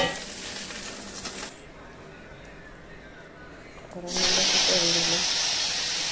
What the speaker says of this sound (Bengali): মশলা একটু ভালো করে ভাজতে